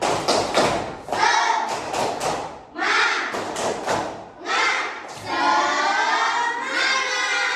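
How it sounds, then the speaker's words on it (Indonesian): A group of children in a classroom performs the rhythmic tepuk semangat clapping chant, with bursts of claps and shouted syllables in quick patterned sequences, loud and close. "Selanjutnya kita tepuk dulu biar nggak ngantuk ya"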